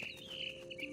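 A mama bird in the video game What Remains of Edith Finch gives quick, faint high chirps and tweets over a low steady ambient hum, a short soft burst of calls.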